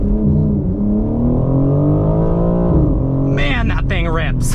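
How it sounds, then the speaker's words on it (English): BMW M4 Competition xDrive launching under launch control: a loud, close engine roar climbs steadily in pitch through the gears, with a voice speaking over it near the end. "Launch control in the M4 Competition xDrive."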